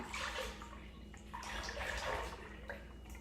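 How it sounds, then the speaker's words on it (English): A liquid mixture pours into a crock pot in a home kitchen, a continuous close splashing, gurgling stream of liquid with a few drips, no talk over it. "we're going to carefully pour this into our crock pot"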